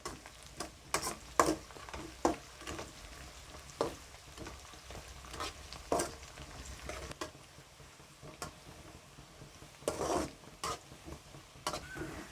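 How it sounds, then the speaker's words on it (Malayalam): Onion, five sliced green chilies and ginger fry in oil for chicken pickle, giving a soft, continuous sizzle broken by irregular stirring scrapes and taps. "ഒരു 5 പച്ചമുളക് വട്ടത്തിലരിഞ്ഞത്. ഇതൊന്ന് മൂത്ത് വരട്ടെ."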